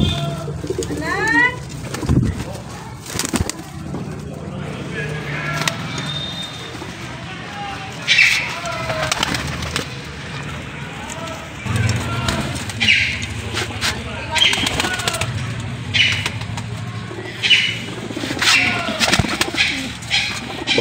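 About thirty pigeons coo repeatedly in low, throaty bursts, close by, with occasional wing flaps and chirps over a steady background.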